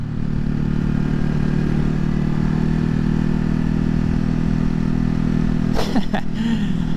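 A 2020 Ducati Hypermotard 950 SP is ridden with a steady, loud engine drone throughout, a mid-pitched hum holding constant as the bike cruises, with brief rattly clatter near the end.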